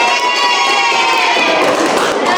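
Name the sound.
classroom applause for a presenting group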